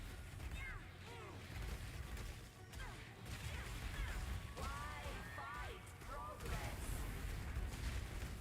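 A boss's big green slam attack in Path of Exile crashes amid layered explosive game effects and whooshing tones, with someone talking over the dense, continuous battle noise.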